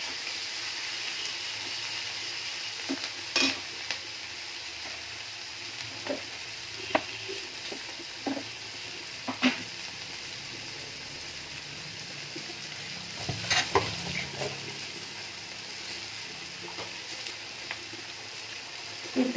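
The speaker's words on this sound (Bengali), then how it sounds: "পেঁয়াজের উপরে একটু নুন করে দিলে কি হয়, পেঁয়াজটা একটু তাড়াতাড়ি ভাজা হয়ে যায়" Onions sizzle and fry in a pan with a pinch of salt while cooking potato dum, a steady close crackle with occasional louder stirring scrapes and pops throughout, no talking.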